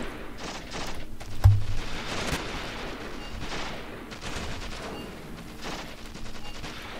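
Gunfire in the war game Achtung Panzer: Operation Star, distant bursts and scattered shots over a continuous battle rumble, with one sharper nearby bang early on.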